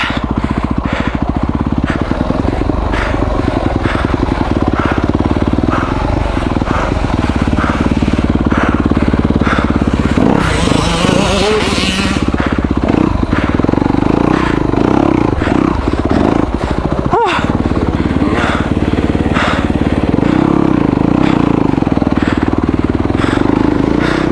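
A Yamaha YX250F four-stroke off-road bike rides an enduro course, its engine loud and close throughout, revving and dropping with the throttle over rough ground and clattering.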